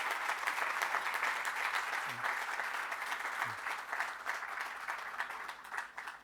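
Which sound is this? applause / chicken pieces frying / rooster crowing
applause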